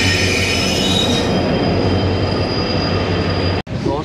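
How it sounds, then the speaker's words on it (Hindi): Late-night Indian Railways train arriving at a station in Rajasthan, loud and close, with metallic wheel squeal and rolling rumble sustained throughout before a sudden abrupt break near the end. "देख लो कैसी होती है इंडियन रेलवे जब लेट होकर आती है"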